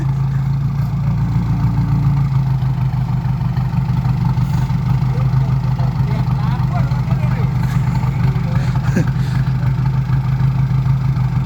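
A tractor engine idles with a steady low rumble, continuous and close, while faint voices occasionally come through in the background.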